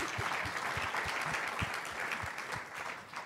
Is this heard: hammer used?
no